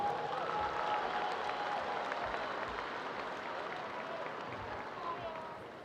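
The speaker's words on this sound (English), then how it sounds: "Give them a round of applause." Crowd applause and cheering at a college gymnastics meet for the top all-around performers, steady and dense throughout, fading slightly toward the end, with a few faint voices in the crowd.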